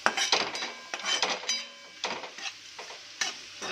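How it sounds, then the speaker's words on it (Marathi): Garlic chutney spices with turmeric, salt and red chilli being stir-fried in a pan, with repeated scraping strokes of a spoon against metal over a light sizzle, close and alone. "आणि परतून घ्यायचं"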